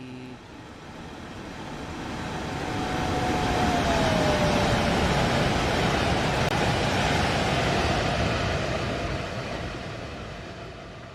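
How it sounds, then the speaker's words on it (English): A train in Train Sim World 2 passes by, its rumble swelling to a loud sustained roar, holding, then fading away, with a faint whistling tone sliding down partway through. "That's the train that just went past, hey?"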